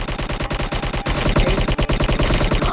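Rapid continuous automatic gunfire in a zombies video game, loud and close with dense rattling bursts running throughout.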